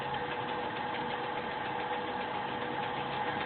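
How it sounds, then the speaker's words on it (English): A metal lathe cuts threads on a reloading die bushing at a couple of hundred RPM, giving a steady, even mechanical drone with a low hum that runs unbroken and fairly quiet throughout, with no voices. "Now we are threading at a couple of hundred RPMs."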